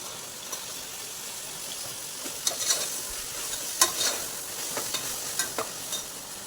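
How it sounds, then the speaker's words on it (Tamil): Ginger and garlic sauté in a hot pan with an even, close sizzle. Occasional light clicks and scrapes of a spoon stir them, and no voices are heard. "இஞ்சி பூண்டு நல்லா வதங்கி பச்சை வாசனை வரைக்கும் வதங்கணும்."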